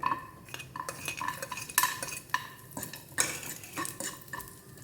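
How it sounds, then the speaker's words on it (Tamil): Raisins and dates roast in ghee while a spoon stirs them against the pan, producing repeated sharp metallic scrapes and clinks over a soft close sizzle. "இப்போ வந்து நம்ம இந்த ட்ரை கிரேப்ஸு, பேரிச்சம்பழம் இதை வந்து இந்த நெய்யில் வறுத்துக்கலாம்."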